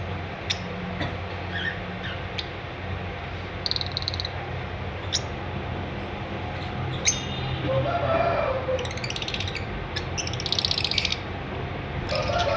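Red-eye albino personata lovebirds give short, scattered chirps and squeaks over a low background hum, some calls sharp and close, others faint, clustering more densely toward the end.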